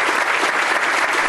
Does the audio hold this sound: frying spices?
no